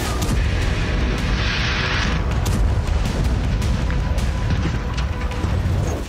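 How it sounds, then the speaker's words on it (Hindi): Explosions at a gas station in Grozny, Chechnya, Russia, after a Ukrainian attack make a continuous, loud, rumbling roar with heavy low booms and crackling bursts. "यूक्रेन के हमलों के बाद रूस के इस गैस स्टेशन में धमाके होने लगे"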